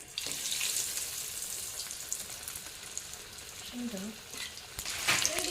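Breaded cutlets dipped in egg and biscuit crumbs fry in hot oil on a low flame, a soft, steady sizzle with faint kitchen clatter and brief bits of voice.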